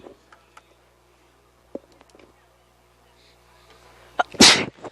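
A single loud, explosive sneeze near the end, preceded by a few faint clicks and rustles in an otherwise quiet room.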